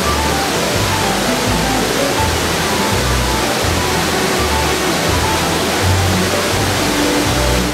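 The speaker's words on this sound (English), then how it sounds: "The Manolovacki Slap is the park's most beautiful and largest waterfall." Largest waterfall in a Croatian national park roaring as a steady, loud, broadband rush of falling water, constant throughout with no voices.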